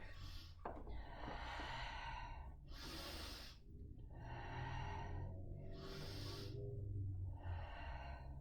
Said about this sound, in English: let's breathe in and out.